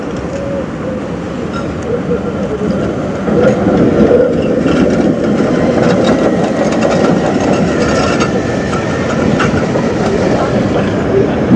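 A Brussels tram rolls out of a shunting neck, a loud, continuous rumble with rhythmic wheel clatter that grows a little stronger midway, while a voice is faintly heard over the noise.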